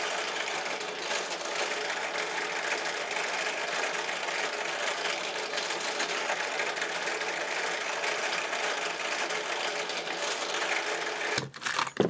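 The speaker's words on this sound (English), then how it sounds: "I need to drill these holes to put the rivets in" A drill runs steadily and close while boring rivet holes through a tanto knife handle, a continuous whirring drone that cuts off abruptly near the end with a few clicks.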